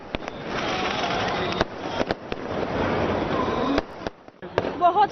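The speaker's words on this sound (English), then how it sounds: "devotees also enjoyed the amazing fireworks at the Golden Temple" Fireworks burst at the Golden Temple during the Prakash Utsav celebration, sharp cracking bangs repeating irregularly over a steady crackling wash, with a voice faintly audible near the end.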